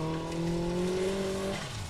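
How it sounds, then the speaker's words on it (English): A Honda-engined formula offroad car revs hard at a competition, its high engine note holding steady and then dropping, loud and close, with tire noise underneath. "The Honda engine working like a charm all weekend."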